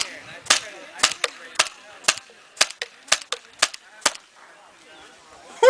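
About a dozen sharp pops from a Tippmann TPX paintball pistol fire at uneven intervals, fairly close, with faint background noise between shots and no talking.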